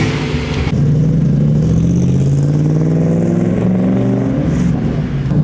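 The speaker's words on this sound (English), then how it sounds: "Man, race cars come to life after a long winter's nap." A race car engine fires up after sitting over winter and settles straight into a loud, throbbing rev that rises and falls steadily, close by and unaccompanied by voices.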